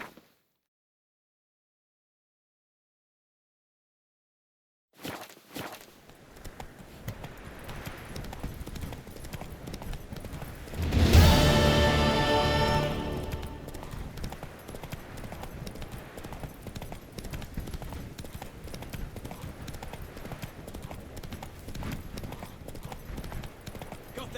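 Roach, Geralt's horse in The Witcher 3, gallops on and on with a steady run of hoofbeats after a silent start, loudest in a brief surge midway, then continuing at an even level.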